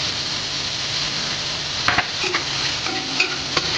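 Pork igado seasoned with pepper and chicken powder is stirred in a hot pan: a constant close sizzle, broken by sharp scrapes and clacks of the utensil near the end.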